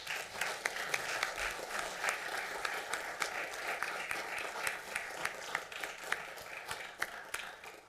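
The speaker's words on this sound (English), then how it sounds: "please, I ask the room again, please applaud them" Applause from the room at a county board meeting, a fairly faint, steady patter of many hands clapping without a break, heard at some distance.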